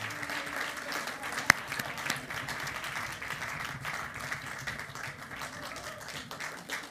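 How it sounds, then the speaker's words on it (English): An audience at a science communication competition semi-final claps steadily in a hall, a moderate, even wash of many hands with one sharp louder clap standing out early, continuing for several seconds. "Can we please have a round of applause"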